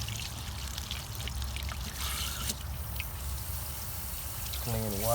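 Water rushes and pours steadily through a Dodge Nitro heater core hose during a flush, a continuous gurgling flow, with a brief voice near the end.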